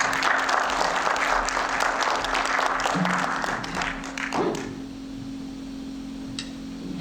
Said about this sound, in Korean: 되게 대견스러워요. 박수 한번.